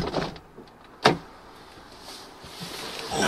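Power window motor on a Mercedes CL55 AMG W215 whirring briefly as a window closes, a short close mechanical sound with a clunk near the start, inside a quiet car.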